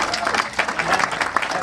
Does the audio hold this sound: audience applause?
yes